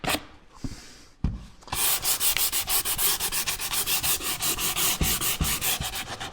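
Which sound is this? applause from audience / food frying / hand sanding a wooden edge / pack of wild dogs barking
hand sanding a wooden edge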